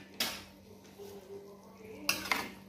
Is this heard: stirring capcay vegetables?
yes